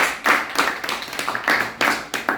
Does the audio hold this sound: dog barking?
no